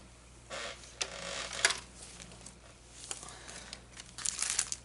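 A paper trimmer slices through paper in a few short crinkly cutting strokes, close and fairly quiet, with small clicks and rustles between passes.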